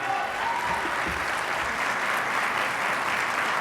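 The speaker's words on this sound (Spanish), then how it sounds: "Y un aplauso también para ellos, que son el cuadro de honor de la escuela." Steady audience applause at a school conference honoring students, a dense, even wash of clapping from a crowd that holds at a constant level throughout without pause.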